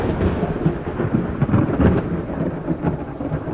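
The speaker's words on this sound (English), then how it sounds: "Lightning flashed suddenly, illuminating his entire room. It was soon followed by a deafening boom." Thunder rolls and rumbles loud and close with a heavy rain wash underneath, a sound effect for a narrated horror story. The boom swells and fades with no voice over it.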